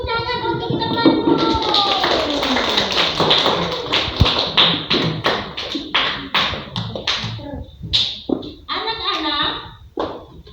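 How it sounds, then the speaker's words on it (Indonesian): Children clapping their hands for a classmate in a primary classroom: a rhythmic pattern of sharp, close claps alongside young voices chanting together, ending in a few scattered claps. "Tepuk tangan untuk temanmu."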